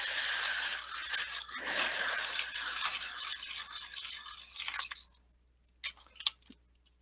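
A black colored pencil turned in a small sharpener, a steady gritty scraping rasp for several seconds that stops abruptly, followed by a couple of faint clicks.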